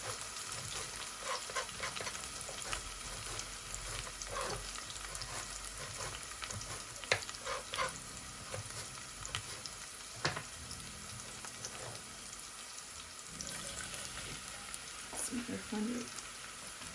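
Spices temper in hot oil for a rohu fish curry, a quiet, even sizzle with occasional crackles and stirring sounds that continues throughout while someone talks over it.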